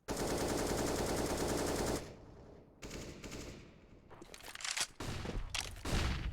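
Counter-Strike rifle and pistol fire on Dust2 at the B site: a long unbroken burst of automatic fire for about two seconds, then a lull, then a string of sharp, loud single shots and short bursts.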